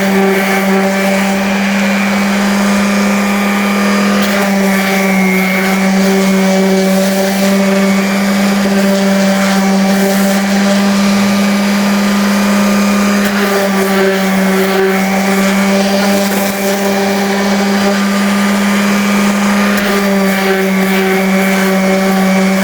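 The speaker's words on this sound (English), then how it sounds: "I like to just sand it with some 220." A power sander works a wooden cutting board with 220 grit sandpaper, a steady loud motor whine with a constant hum and gritty abrasive hiss that runs unbroken throughout.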